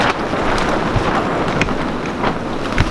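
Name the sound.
strong wind blowing in the garden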